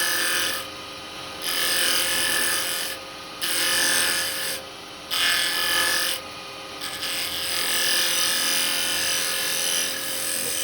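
A carbide chisel scrapes and cuts a small wooden Japanese lidded box spinning on a lathe, a close rasping hiss interrupted by brief pauses as the tool lifts, with the lathe humming underneath.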